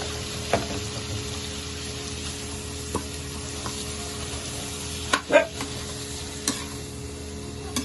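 Bitter gourd (ampalaya) stir-fries with pork, onion and garlic in a pan. A steady sizzle runs throughout, broken by several sharp clicks and knocks of a utensil against the pan, the loudest near the middle.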